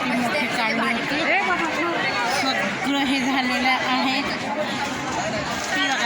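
Dense crowd hubbub at a crowded village temple fair, a steady close murmur of many voices and chatter throughout, with a nearby person talking over it.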